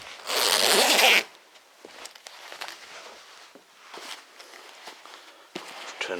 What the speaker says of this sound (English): the same style zipper, so backwards and forwards, up and down